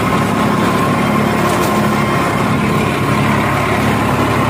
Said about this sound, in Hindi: अभी इस ट्रैक्टर से दूसरी बार जुताई की जा रही है।